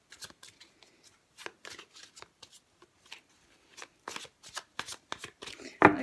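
A Giro Marchetti tarot deck being shuffled, giving repeated short papery riffles and rustles in uneven bursts, close and fairly quiet, with one louder flutter at the end.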